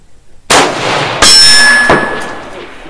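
A 5.56 rifle fired at a golf ball at 600 yards: one loud sharp crack followed shortly by a second loud bang, then a ringing, decaying tail outdoors.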